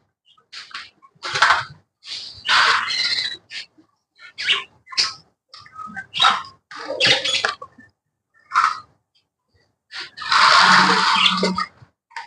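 Pet budgerigars being fed chirp and squawk close by in quick, busy bursts with short pauses between, the chatter swelling into a dense flurry near the end.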